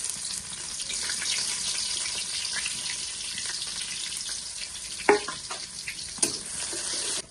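Onion frying in oil on a clay stove outdoors at night, a soft continuous hiss of sizzling with a couple of brief clatters of stirring near the end, no talk.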